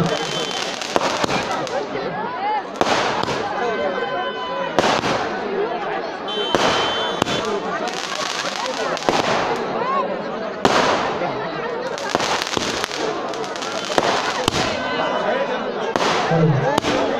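Fireworks and firecrackers at a festival, repeated sharp bangs and crackling bursts at irregular intervals, with someone talking over a loudspeaker throughout.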